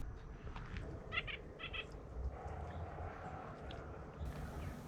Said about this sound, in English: the sun came out, and the birds started chirping